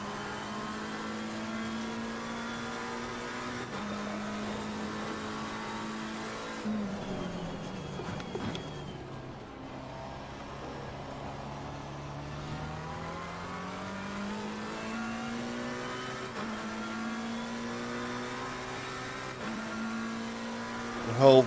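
A race car engine in Assetto Corsa Competizione at Kyalami holds high revs, its pitch sweeping down and back up through gear changes and corners. It sounds steady and moderately loud for the whole stretch, with no talk.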